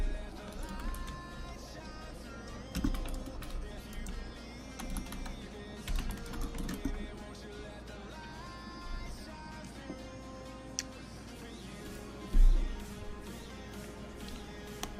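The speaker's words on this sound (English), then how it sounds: "Dev smashed my keyboard." A computer keyboard being typed on, its quick clatter of keystrokes running steadily through the clip and mixed with other sounds at moderate loudness.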